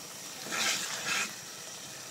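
Turmeric powder sautéing in hot oil for a curry, a steady soft sizzle with two brief louder hissing swells and a sharp clatter at the very end, no voices.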